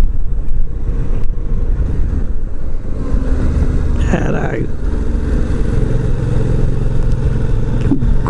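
Steady engine drone of a moving Yamaha Tracer 700 motorcycle, loud and continuous with wind rumble, a brief rise in pitch midway as the rider accelerates.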